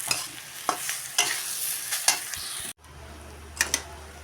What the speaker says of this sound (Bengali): এখন দিয়ে দেব আলু। আলু দিয়ে নেড়ে চেড়ে নেব।